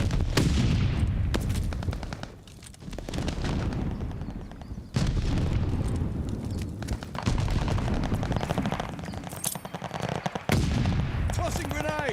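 Loud stun grenade blasts and rapid gunfire in a video game battle, with heavy broadband bursts repeating through a dense, continuous stretch of combat. Voices call out over the action.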